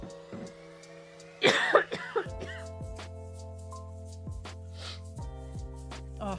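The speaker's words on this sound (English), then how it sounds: "I already have a little bit of a cough" Someone with a slight cold lets out a short, harsh burst of coughing, loud and close, followed by quiet beeping electronic tones and a low hum.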